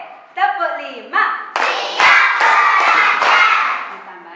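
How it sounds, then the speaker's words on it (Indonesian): A class of children claps out a five-beat pattern in a classroom, bursts of hand claps following a teacher's spoken cue, loud and close with voices around them. "Tepuk lima, siap belajar."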